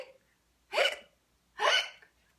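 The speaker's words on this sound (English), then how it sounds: "The hiccups stayed." Two evenly spaced hiccups from a cartoon skeleton, each a short, clear, breathy gulp, close and alone with silence between.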